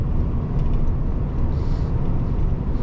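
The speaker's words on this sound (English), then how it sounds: "It is a bit windier today, so you're gonna hear a bit more wind noise." Steady low roar of wind buffeting a moving 2014 Ford F150 pickup truck, blending with road rumble, constant and fairly loud throughout with no talking.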